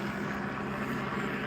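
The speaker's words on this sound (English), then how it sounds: "So, there's the helicopter." A police helicopter flies overhead during a highway patrol search, its engine and rotor making a steady, continuous drone that fills the air with no talk.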